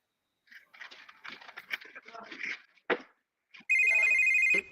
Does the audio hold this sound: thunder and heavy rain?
no